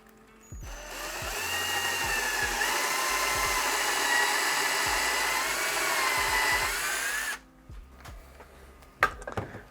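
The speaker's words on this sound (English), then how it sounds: "There's the second hole drilled." A power drill bores a hole for a deck insert, a steady high whine running close and loud for about seven seconds before cutting off, followed by a few faint knocks and a sharp clatter.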